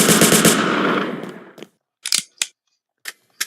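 Burst-fire machine pistol shots in Roblox Shadow War, a Vector-style gun with a three-round burst mode: a loud, rapid rattling volley fades out, and then sharp, separate short bursts crack at irregular intervals across the silence.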